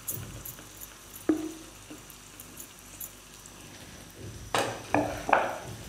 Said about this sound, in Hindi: बस तवे पे हमने इसको फ्राई करना है